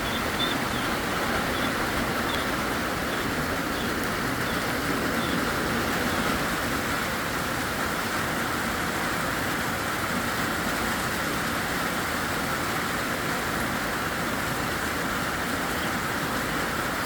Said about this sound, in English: There's so much water coming off the roof.